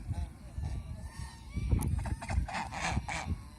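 Farm ducks quack and honk in loud, overlapping bursts close at hand, a busy flock chorus over low rumbling background noise.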